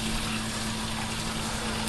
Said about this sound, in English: Run some water in there.